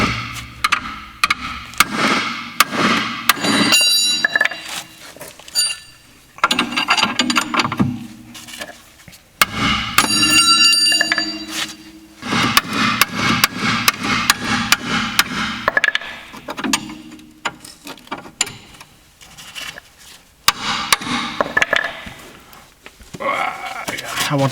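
Air hammer working on a rear shock absorber bolt of a 2005 VW Touran, loud repeated bursts of rapid metallic hammering separated by brief pauses, with occasional voice in between.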